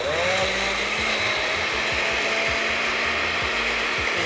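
A blender grinds tomato, garlic, broth, salt and pepper with a loud, steady motorized whir and a rhythmic chopping churn throughout, with no voices.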